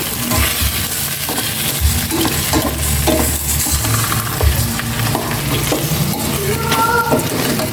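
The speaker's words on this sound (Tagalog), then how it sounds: "Ilagay ko na rin itong chicken para magisa." Chicken pieces sautéing in a pan, a loud close sizzle broken by repeated scraping and clinking of a utensil stirring against the metal.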